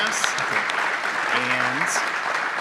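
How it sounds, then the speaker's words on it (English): At a live podcast recording at a conference, a crowd claps for the guests on stage in steady, moderate applause, with a voice speaking briefly over it. "Want to give a round of applause to our guests here on the stage."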